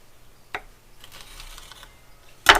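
A knife cuts vegetables into bite-sized pieces on a board, producing a few sharp, isolated chops and a soft scrape between them, with the last cuts landing loudest.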